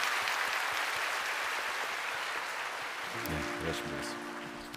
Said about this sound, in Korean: 우리 박수로 축복해 주시기 바랍니다